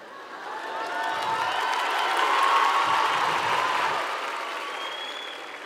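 An audience applauds at the Viña del Mar festival in 2023 during a comedy set, a large crowd's clapping that swells and then slowly fades, steady and dense with no voices over it.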